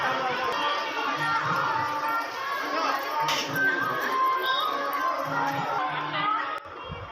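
Dense crowd of devotees at a Baladevjew temple in Kendrapara during the Sudasha Vrata festival, a continuous near murmur of many voices and footsteps with no single clear speaker.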